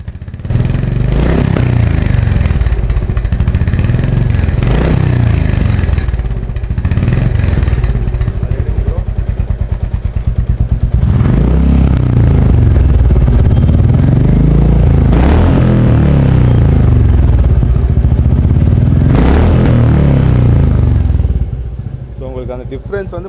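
A Royal Enfield Meteor motorcycle fitted with a Red Rooster performance silencer revs up close and loud, with several throttle blips over a steady idle, while a voice talks over parts of it.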